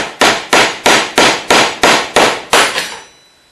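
Hammer striking an old screwdriver against a fuel tank locking ring, eight sharp, evenly spaced metallic taps, close and loud, the last fading out.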